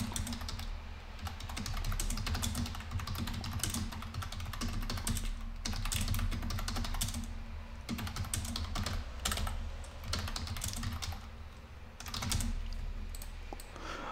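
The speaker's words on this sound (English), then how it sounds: "this is what the user is typing" Fingers type a search query on a computer keyboard, a fast, continuous clatter of keystrokes close by, with brief pauses and no talking.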